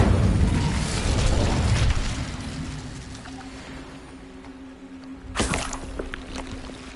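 A fiery Incendio spell blast from Hogwarts Legacy bursts out sharply in a loud whoosh. It follows an earlier rumbling boom that fades into a low, quiet hum.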